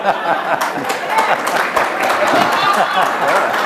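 Audience clapping at a talk on progressive politics, a dense continuous patter of many hands with scattered chuckles and voices mixed in, steady for a few seconds.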